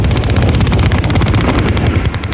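Dense, continuous battlefield din of rapid gunfire and heavy low booms from a First World War trench fight at the Somme, loud and unbroken with rapid bursts layered over a deep rumble.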